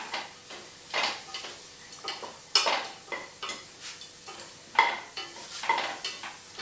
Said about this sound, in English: Sweat the leeks, mix it with the butter.